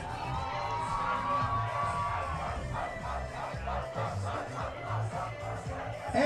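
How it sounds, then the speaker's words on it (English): A crowd at a women's college soccer championship cheering and shouting for the winning team, a steady loud roar of voices with whoops, no distinct clapping. "please give a great big round of applause to this year's champions and defending champions, the John Jay Bloodhounds"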